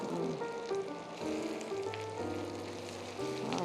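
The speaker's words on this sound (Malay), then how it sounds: "kita punya daun kari dengan bawang tadi kita dah goreng" Curry leaves and onions frying in oil in a home kitchen for a Malaysian recipe, a steady close sizzle and crackle running throughout with a faint tonal hum underneath.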